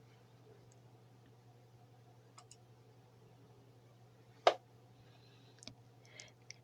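A single sharp computer mouse click on a tax-filing web page rings out near the middle, with a few faint ticks around it over a steady low hum.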